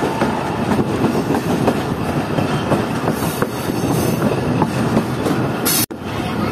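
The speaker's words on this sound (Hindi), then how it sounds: "कोटरी से निकलने के बाद ट्रेन तो फिलहाल इतनी स्पीड में चल रही है" Mohen Jo Daro Express rolling along the main line out of Kotri, with a steady loud rumble of wheels on rails and faint squeals, dropping briefly near the end before resuming.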